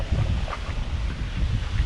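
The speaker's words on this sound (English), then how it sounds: "Wow, windy." Steady wind buffets the microphone with a constant low rumble and roar, loud and close, no voices.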